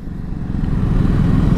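A Yamaha R15 V3 motorcycle is ridden on the road, its engine a steady low drone growing slightly louder, with rough wind rumble mixed in.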